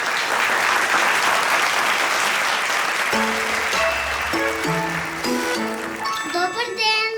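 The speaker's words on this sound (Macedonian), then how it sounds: "Зато со аплауз да я поздравим." An audience claps steadily to greet a performer at a New Year show, and bright music with tinkling tones rises over the applause halfway through.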